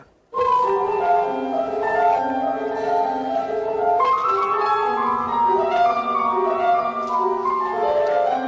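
An orchestral performance of the piece La danza de las chirimoyas, said to echo Prokofiev and Beethoven, enters after a short pause and carries on steadily with sustained harmonies and moving melodic lines at full, even loudness; no talking.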